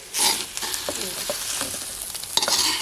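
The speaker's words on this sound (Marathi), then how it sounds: "भाजून भाजून कसा कांदा नरम होतो ना तर कमी होतो थोडा" Onions roast in a pan for Maharashtrian goda masala with a steady sizzle, broken by repeated scraping strokes of a spoon stirring them.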